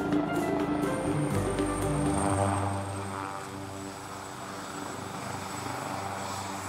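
Small propeller aircraft in flight on a short sightseeing hop over the Faroe Islands, a steady droning engine hum with a fairly constant pitch heard from inside, easing slightly in loudness partway through.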